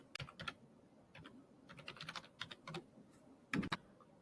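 Typing on a computer keyboard, quiet scattered clicks in short irregular runs with a few louder keystrokes, close and without talk.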